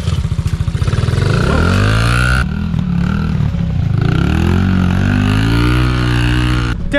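A Honda XR50 dirt bike fitted with an 88cc big bore kit revving hard in first gear, its engine pitch climbing and falling through repeated throttle pulls, loud and close, with no talking.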